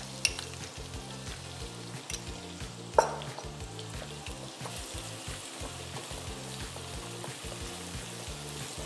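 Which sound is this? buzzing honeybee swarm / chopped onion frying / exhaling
chopped onion frying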